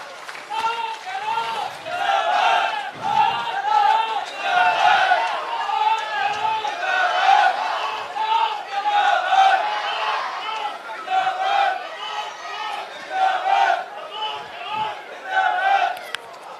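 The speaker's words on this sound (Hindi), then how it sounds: "जोरदार तालियों के साथ" Big outdoor crowd at a public foundation-stone ceremony for urban development works, sustained cheering, shouting and clapping that swells and continues throughout, loud and dense with voices mixed in.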